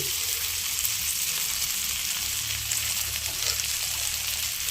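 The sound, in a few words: frying sukti fish in pan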